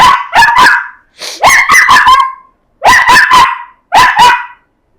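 A dog barks in short bursts of two to four sharp, loud barks separated by brief pauses, close by and alone with no talk.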